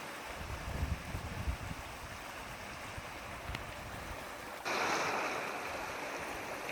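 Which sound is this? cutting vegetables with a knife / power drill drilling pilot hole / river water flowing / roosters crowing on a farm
river water flowing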